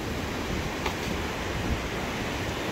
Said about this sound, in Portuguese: o mar tá crescendo cada vez mais